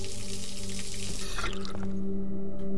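A tap in the video game Observer runs steadily, water pouring continuously and close by, with no talking over it.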